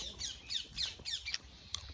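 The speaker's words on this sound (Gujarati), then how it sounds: "જો મોરા આવે છે બતાવું તમને." Loud squawking bird calls from a peacock, a rapid series of harsh nasal cries repeating close by in quick succession, with no talk.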